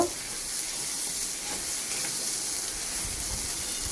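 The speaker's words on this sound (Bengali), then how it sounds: "এবার এই তিনটেকে একসঙ্গে একটু ভেজে নেব" Turmeric, ginger paste and cumin powder frying together in a pan, giving a steady, soft hiss and sizzle that runs evenly throughout with no talk.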